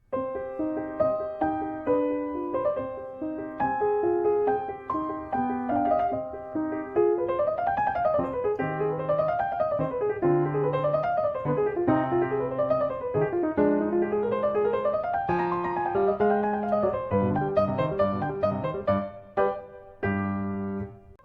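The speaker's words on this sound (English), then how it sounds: "if Mozart used a different scale, for example, C harmonic minor, it would sound like this." A keyboard melody in C harmonic minor plays alone, with rising and falling runs over steady lower notes, building in density before ending.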